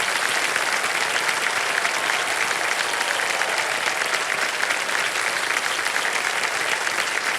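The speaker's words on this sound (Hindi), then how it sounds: "ताली बजती रहे।" Studio audience applause on the quiz show Kaun Banega Crorepati, loud, dense and continuous throughout, with no one speaking over the sustained clapping.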